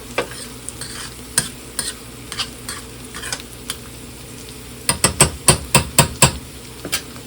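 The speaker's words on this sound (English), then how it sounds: "It's toasting up the sesame seeds nicely." Sesame seeds toasting in a hot pan, with a series of sharp clinks and scrapes from stirring or tapping that grow denser toward the end, over a faint steady sizzle.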